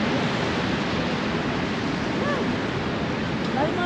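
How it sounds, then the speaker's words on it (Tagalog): Niagara Falls gives a steady, broadband roar of falling water at constant level, with a faint voice in the background. "Here we can see the Niagara Falls."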